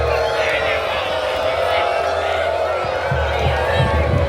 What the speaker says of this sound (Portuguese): a equipe do Parnaíba sai vaiado novamente